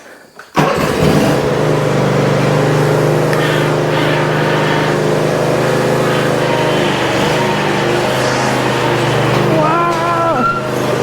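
A junkyard John Deere zero-turn mower engine cranks briefly, catches and settles into a loud, steady run that fills the rest of the clip, with a slight rise in revs near the end.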